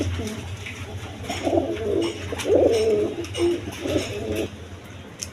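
Pigeons at a pigeon farm coo nearby in soft, throaty, repeated phrases that overlap and swell, with faint chirps and background farm noise around them.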